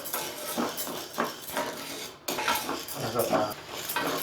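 Repeated scraping and clinking of a utensil stirring urad dal as it dry-roasts in a pan over low heat, steady and close, with faint background noise.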